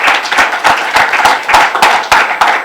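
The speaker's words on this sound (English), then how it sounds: "Let's clap for her." An audience claps for a chapter chairwoman at the opening ceremony of the NPP Seattle chapter in Seattle, Washington. The applause is loud, close and rhythmic, in steady bursts throughout.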